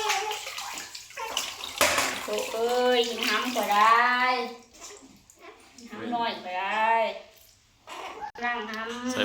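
Water splashes and pours while a baby boy is bathed, mixed with an adult talking and singing softly in Thai, close and steady with brief pauses.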